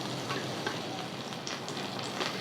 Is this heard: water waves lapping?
no